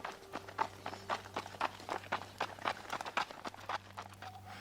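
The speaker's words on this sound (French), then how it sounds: "il prit son cheval et se dirigea vers la montagne" Horse hooves clip-clop in a steady, quick rhythm as a rider sets off toward a mountain, a story sound effect with a low drone beneath the repeated near hoofbeats.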